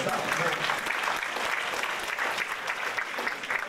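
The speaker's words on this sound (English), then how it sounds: "Give him a round of applause, y'all." A live audience at a talk gives a sustained round of applause, dense and steady clapping filling the room for several seconds.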